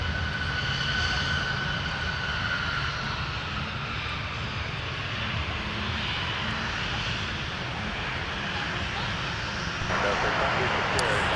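A CRJ regional jet and an Airbus taxi across at Minneapolis–Saint Paul airport in the evening, a steady broadband engine rumble and whine holding throughout, with someone talking over it.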